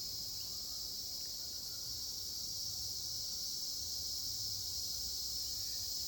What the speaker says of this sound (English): And you can hear the bugs, maybe the slight hum of birds and